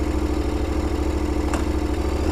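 A KTM 1050 Adventure motorcycle idles close by with a loud, steady, throbbing pulse and a deep even beat, plus a brief faint click partway through.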